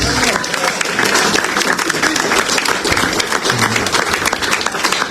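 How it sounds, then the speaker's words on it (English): Sustained, loud audience applause at a community unity night event, dense clapping filling the whole stretch with some crowd noise and scattered voices underneath. "give her another round of applause"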